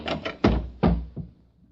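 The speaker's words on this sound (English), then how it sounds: "I was awakened by the door." A door sounds in a 1950 radio drama: a series of heavy knocks or thumps, close and fairly loud, with a couple of quicker taps and a softer final knock, alone without talk.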